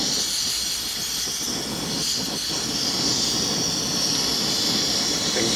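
One liter of water at a rolling boil on an MSR Rapidfire camping stove gives a steady, close hiss and roar of burner and bubbling, unchanging throughout.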